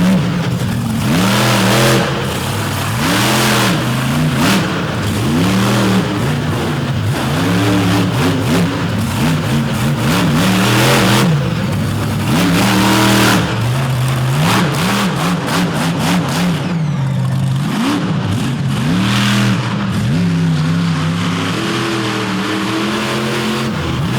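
A monster truck engine at an Overdrive Monster Trucks show in Pennsylvania revs hard and repeatedly on the track, loud and close, with rising and falling pitch sweeps as the throttle is worked through a slap wheelie and bounces.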